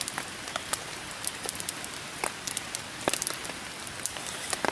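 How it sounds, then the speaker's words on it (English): Light rain patters steadily on a surface, scattered drops ticking at an even, gentle pace with no voices. "The rain has died down."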